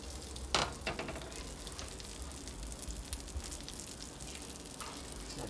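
Salmon sears in a hot pan, giving a steady, fairly quiet sizzle and crackle with a few brief louder spits and no voices.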